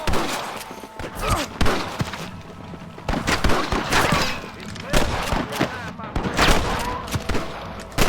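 Red Dead Redemption gunfire crackles in repeated volleys, many overlapping rifle and pistol shots popping near and far, with voices shouting in between.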